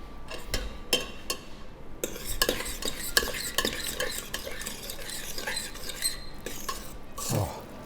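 A spoon stirs pasta with parmesan, butter and hot pasta water in a pan, giving steady scraping and clinking with soft sizzling underneath, continuous and close.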